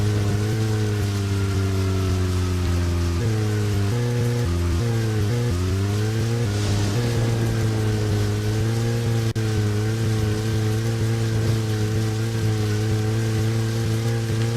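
Rain falls steadily over a car driving in the video game Deadly Premonition, a continuous wash of patter layered over a loud droning engine hum whose pitch dips and rises, constant throughout with no talking.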